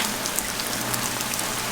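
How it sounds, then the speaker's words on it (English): Heavy October rain pours steadily around an abandoned stone house under renovation, a dense, loud hiss of drops hitting surfaces close by, with no talk. "It's crazy, the rain."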